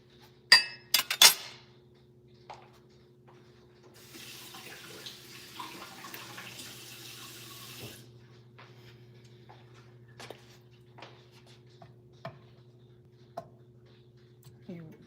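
Tap water runs steadily into a kitchen sink while hands are rinsed, a continuous hiss lasting several seconds after a few sharp clinks of glass and utensils, with scattered clatter and knocks afterward.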